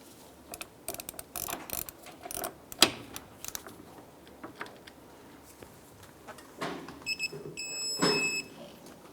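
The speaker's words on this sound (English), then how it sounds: "I'm going to go ahead and torque the axle nut down to 221 foot-pounds." Torque wrench tightening the axle nut on a 2001–2007 Ford Escape during wheel bearing and hub replacement, a series of close, faint ratcheting clicks and metallic mechanism sounds in irregular bursts, ending with a brief beep-like tone.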